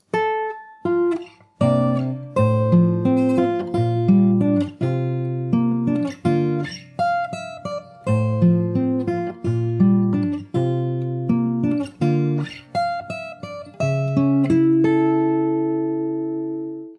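Fingerstyle acoustic guitar plays the Animal Crossing New Horizons theme, a bright, plucked melody over held bass notes and chords, steady and close, ending on a sustained ringing chord.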